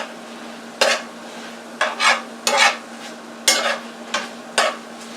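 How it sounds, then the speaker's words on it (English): A utensil stirs ground beef and softened onion in a frying pan, five or six close scraping sweeps in a steady rhythm over a soft, continuous sizzle, with no voices. "Now I'm going to mix it with the ground beef."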